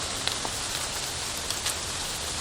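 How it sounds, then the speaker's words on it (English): Steady rain falls outdoors as an even, fine hiss with a few scattered louder drops striking a surface, and no voices. "The rain."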